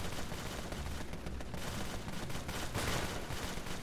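Gunfire in the video game Empire of Sin rings out as dense, continuous crackling shots over a noisy game soundtrack, loud and steady throughout.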